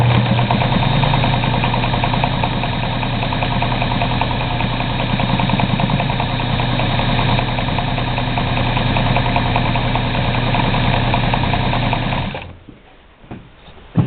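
A sewing machine stitching a zigzag along burlap runs steadily and loudly at an even mechanical hum for about twelve seconds, then stops abruptly, leaving a few faint clicks.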